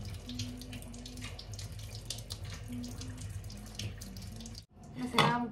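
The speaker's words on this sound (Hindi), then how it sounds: "पहले इसको वॉश करते हैं अच्छे से।" Mangoes are washed under a running tap, a steady close splash of faucet water with hands moving through the stream; the flow cuts off briefly near the end before another short splash.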